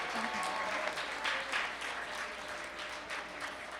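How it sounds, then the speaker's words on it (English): An audience at a women's reception event gives a steady round of applause for several seconds, with dense, even clapping from a crowd in an indoor hall. "I want to take some time to really clap it up for our ASL interpreter for the night, Charlotte Spinkston."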